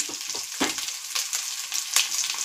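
Ginger and spices frying in a pan: a steady close sizzle with several scraping stirs, no voices over it.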